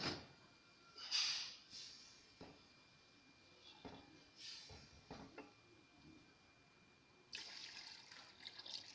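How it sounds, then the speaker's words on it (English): Water is poured into a cooking pot for tilapia soup in a kitchen, giving a soft intermittent splashing and trickling with a few sharp bursts, fairly faint overall. "Next, I'm going in with water."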